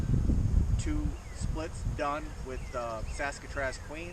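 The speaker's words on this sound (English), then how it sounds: "It's really windy out today" Low rumbling wind buffets the microphone at the start, then eases as someone speaks over lingering gusty noise.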